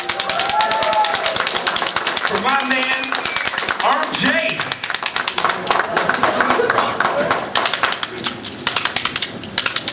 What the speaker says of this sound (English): I want everyone to give you a big round of applause